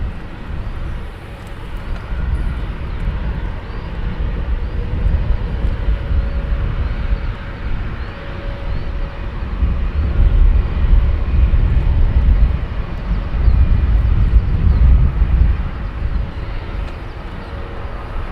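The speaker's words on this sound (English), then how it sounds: "Next will be the DHL. It'll be interesting to see how far that delivery aircraft is away." A DHL delivery plane at Luton Airport early in the morning, a loud, steady low engine roar that swells slowly and fills the whole stretch with no speech.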